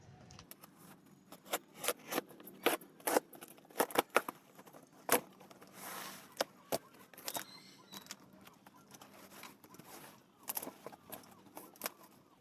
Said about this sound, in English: So now we are cutting down the package from top to bottom.